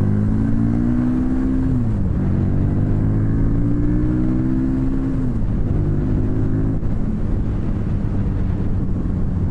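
A Harley-Davidson Street Rod motorcycle engine revs loudly and close by, its tone climbing steadily and then dropping sharply twice as the throttle opens and closes.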